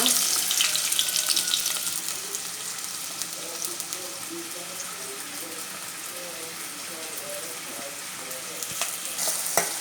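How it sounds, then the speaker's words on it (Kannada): Onions frying in oil in a pan for a Mangalorean bondas chilli dish, giving a steady, dense sizzle throughout with faint stirring and no speech. "ಈಗ ಒಂದು ಎಣ್ಣೆ ಪಾಡ್ದ ಅದಕ್ಕೆ ನೀರುಳ್ಳಿ ಫ್ರೈ ಮನ್ಪಗ."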